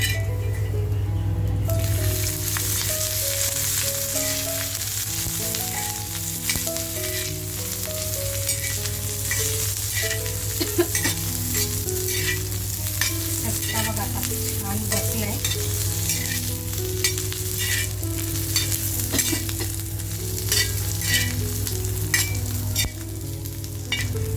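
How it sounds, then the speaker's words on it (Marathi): Garlic sautés in a little oil for crab kharda, a steady close sizzle running throughout with soft stirring scrapes, over a low continuous hum from start to finish. "आता हे आपल्याला छान असं खमंग परतवून घ्यायचं आहे थोडासा तेलाचा वापर करते"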